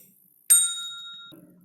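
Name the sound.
bell sound effect from KineMaster assets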